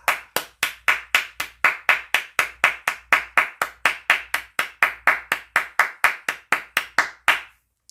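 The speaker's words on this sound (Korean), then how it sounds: "우리 귀한 생명의 말씀과 또 우리의 기도를 들어주시고 응답하신 하나님께 감사의 박수로 영광 올려드리겠습니다" A church congregation claps in unison during a worship service, about thirty sharp, steady claps in even rhythm, fairly loud and close, ending abruptly with one final stray clap.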